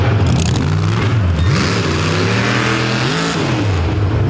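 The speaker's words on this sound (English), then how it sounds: "there goes a very expensive transmission from the sound of it" A loud drift car engine revs hard and drops in pitch, with tire scraping and a strained whine from a failing transmission, close up and continuous.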